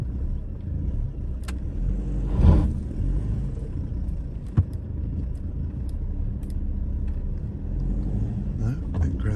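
A Land Rover creeps up a low driveway in first gear, its engine a low steady rumble close by with a brief scrape or knock partway through; no talk over it.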